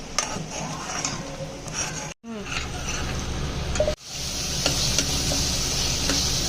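A spice paste sizzles and is stirred in hot oil in a pan while making soybean bhaji, a steady frying hiss broken by short pauses and occasional scrapes of the spoon.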